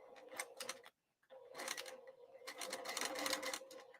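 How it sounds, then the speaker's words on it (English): A sewing machine stitches across bowler bag material in rapid mechanical bursts, pausing briefly before running again, close and clear with no talking. "I'll then sew across that 1-inch mark."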